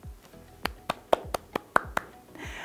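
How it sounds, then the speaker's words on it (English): A handful of separate hand claps from children, about seven sharp, uneven slaps spread over a couple of seconds in a small, quiet space, with no voices over them. "Give yourselves a big round of applause."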